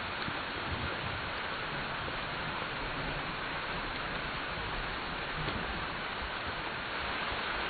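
Steady rain falls throughout as a dense, even hiss with faint scattered drops and no pauses or voices.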